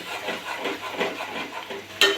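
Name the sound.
food deep frying in oil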